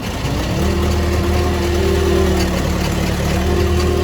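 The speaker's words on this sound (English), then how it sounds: "Our wheelbarrow is running." A motorized wheelbarrow's small engine runs steadily just after starting, a loud, close, continuous rumble with no pauses.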